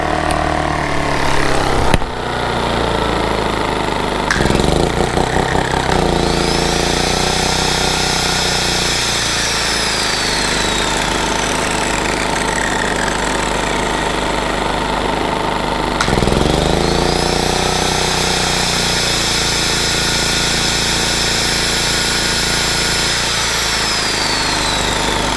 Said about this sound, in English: Now what I'm going to do is turn down the RPM and see if it can run the angle grinder on low and accelerate